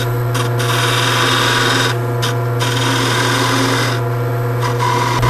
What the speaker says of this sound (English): use a skew and cut a couple lines between the colors